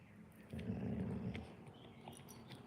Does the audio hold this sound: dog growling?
yes